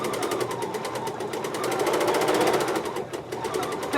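A sewing machine stitches stippling on a quilt in rapid, evenly spaced needle strokes that speed up slightly midway, close and clear with no talking.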